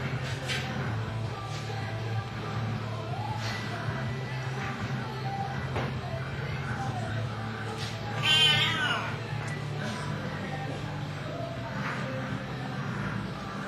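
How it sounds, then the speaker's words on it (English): A cat in an old home video meows once in a short, clear burst partway through, over a steady background hum. "let's check out Zhao the fetching cat"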